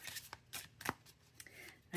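Cards riffle and snap together in quick, close bursts, a short shuffle with crisp flicks and light taps.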